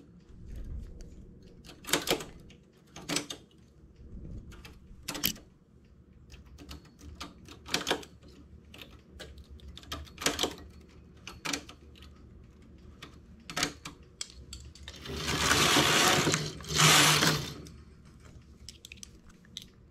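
A knitting machine working cable stitches, with irregular sharp mechanical clacks and carriage slides and a longer, louder sweep near the end, close up, with no speech.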